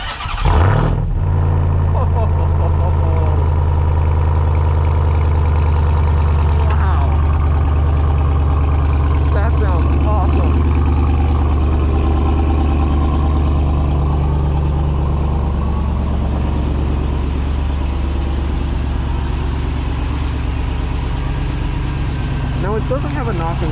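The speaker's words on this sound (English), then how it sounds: "here's the first cold start" A 702-horsepower Hellcat-powered 2021 Ram TRX pickup truck engine cranks and fires up from cold, then settles into a loud, steady rumbling idle that continues throughout, with a few faint background voices.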